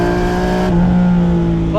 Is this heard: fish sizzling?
no